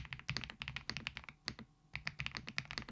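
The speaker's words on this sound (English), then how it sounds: "Here's a quick sound test of the Epomaker TH85." Epomaker TH85 mechanical keyboard being typed on, a rapid, uneven run of close, deep thocky keystrokes with one brief pause midway, crisp and alone with nothing else heard.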